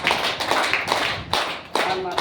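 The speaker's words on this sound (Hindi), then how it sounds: "एक बार अपने माता पिता के लिए जोरदार ताली बजाइए।" An audience claps in a hall during a motivational gathering, short loud bursts of clapping that swell and break off several times, with voices mixed in.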